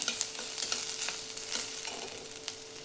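Onions fry in oil for a spicy tomato and green chilli thecha, a close, steady sizzle broken by small crackles and light stirring taps.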